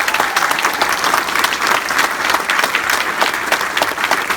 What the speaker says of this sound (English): please join me in a round of applause for the Bulldog cadre